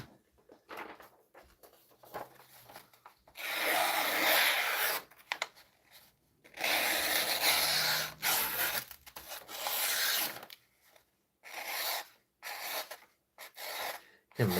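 Sharp M4 steel knife blade with a tall flat grind slicing paper, heard as bursts of dry rasping cuts in a few separated passes, close and fairly loud, with quiet gaps between.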